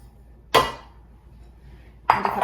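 Sugar being measured into a pot, two brief gritty clattering pours about a second and a half apart, close and fairly loud, with quiet between them and no talking.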